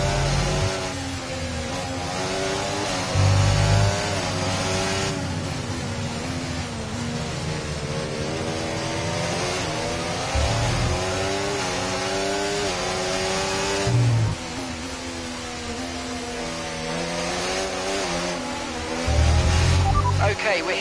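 Formula 1 car engine in the F1 24 racing game, a loud continuous high-pitched engine whine rising and falling through repeated upshifts and downshifts, with a race engineer's voice speaking over it.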